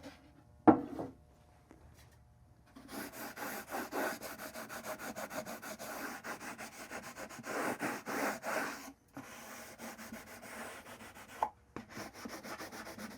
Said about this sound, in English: I've kind of collected really just dirt and sawdust. I'm gonna kind of rub that in there and see if we can just sort of stain that wood a little bit.